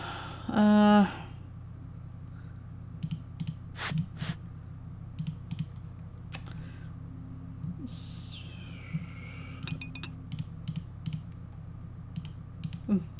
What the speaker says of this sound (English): I'm just clicking on things.